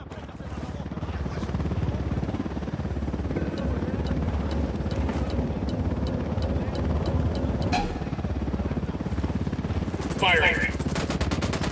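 A helicopter in the Ghost Recon Wildlands shooter drones continuously with a thudding rotor for about twelve seconds, joined by bursts of automatic gunfire and a short radio-like voice near the end.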